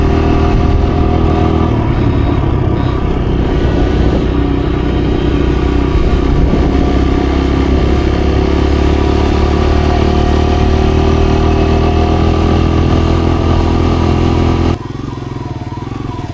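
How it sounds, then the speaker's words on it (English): A KTM 50 dirt bike engine floods as it is held at full throttle on a forest trail, giving a loud, steady, rough buzzing drone that runs almost unbroken and then drops suddenly near the end. "he keeps giving it full throttle and it's flooding the bike"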